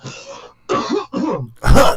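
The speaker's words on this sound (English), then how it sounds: "all these coughs are like dry now" Several dry, raspy coughs from one person, close and loud, coming in short separate bursts with brief gaps between them.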